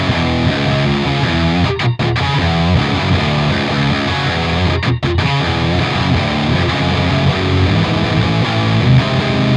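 Distorted electric guitar through the Archetype: Rabea amp plugin with reverb switched off plays a dense, continuous riff at full loudness for nearly ten seconds, broken by two brief choked stops, with no talking.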